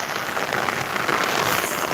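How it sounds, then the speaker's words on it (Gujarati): Heavy rain pours steadily onto a surface, a dense, even hiss of drops with no voices. "વરસાદ એટલે જોરદાર માહોલ છે"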